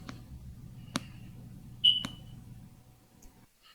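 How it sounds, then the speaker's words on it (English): A fire alarm with a low battery chirps once, a short high beep faint in the background over quiet hum, with a few soft clicks around it. "Sounds like he's got a fire alarm battery low as well in the background."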